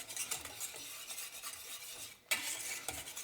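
Thickened cheese sauce for a soufflé being stirred in a pan off the heat, with continuous close scraping strokes against the pan, briefly pausing before resuming, no talk.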